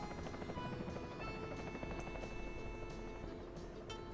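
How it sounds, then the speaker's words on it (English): Helicopter rotors in the game Soviet Republic thrum continuously with a steady low chopping drone and a high whine, fairly quiet and with no voices. "Helicopters just put out the fire?"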